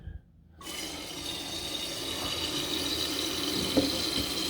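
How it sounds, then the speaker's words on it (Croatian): After a short silence, water rushes steadily into a toilet cistern through a newly replaced fill valve as the float rises, a continuous close hiss of filling with a small knock near the end. "Plovak se puni. Kako voda podiže plovak, tako zatvara gore i ventil."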